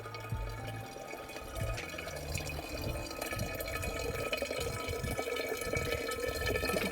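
Natural spring water flowing and bubbling from a free roadside spring on São Miguel Island in the Azores, a steady close splashing trickle that swells slightly over several seconds, with no voices.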